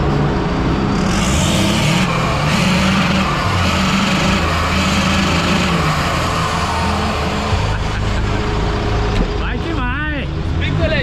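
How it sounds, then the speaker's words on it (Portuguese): Gasoline engine of an off-road 4x4 revving on a muddy Pantanal expedition, a continuous loud rumbling drone with people talking over it nearby. "dá uma aceleradinha ali pra ouvir o motor"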